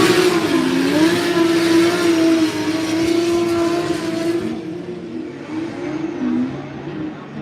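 A Mark V Supra drift car's engine roars at a Formula Drift event, a loud sustained high-revving drone with wavering pitch as the car slides, fading somewhat as it moves away.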